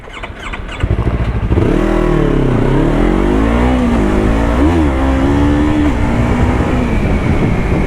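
A Yamaha R3 motorcycle fitted with an Akrapovic exhaust starts up and idles, its engine note rising and dipping with a few revs, loud and close throughout.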